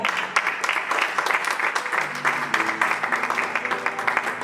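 Church congregation clapping together in a steady, dense burst of applause that fills the room, with a sustained musical tone underneath and no talking.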